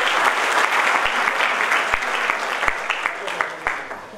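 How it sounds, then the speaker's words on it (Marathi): An audience at a Marathi book launch breaks into loud, sustained applause, dense clapping filling the room from start to finish with a few sharper individual claps standing out. "यांच्यासाठी जोरदार टाळ्या लागतात."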